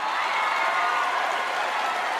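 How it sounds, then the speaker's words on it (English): A party crowd applauds a birthday child at a Chuck E. Cheese restaurant, giving steady, dense clapping that holds at an even level throughout without rising or fading. "How about some applause here,"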